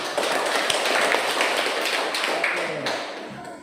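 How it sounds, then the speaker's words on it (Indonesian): Students in a classroom clap together in a steady burst of applause that fills the room for a few seconds before easing off at the end. "Tepuk tangan."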